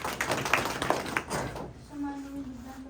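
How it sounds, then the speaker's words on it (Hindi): Children at a school clap together in a brief burst of sharp hand claps, which then stop and give way to a voice speaking in a quiet room. "चलो ताली बजाओ"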